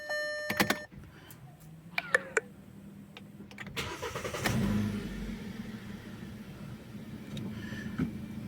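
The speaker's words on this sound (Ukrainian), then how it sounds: "Двигун працює рівно, ніяких не помилок, не вибиває нічого" A Kia Rio car is started: dashboard chimes and clicks, then the starter cranks and the engine catches with a brief rev before settling into a steady, even idle.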